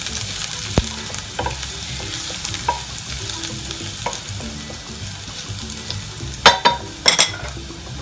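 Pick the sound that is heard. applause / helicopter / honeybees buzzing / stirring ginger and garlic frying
stirring ginger and garlic frying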